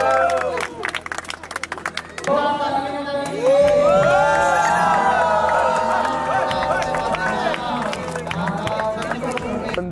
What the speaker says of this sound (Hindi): जोरदार तालियां तो बजा दें एक बार